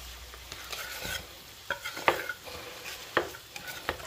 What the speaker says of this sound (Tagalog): nagigisa ako ngayon ng corned beef